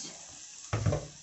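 Quiet, low sizzling of fat in a pan, then a sudden louder burst of crackling and a soft clatter near the end.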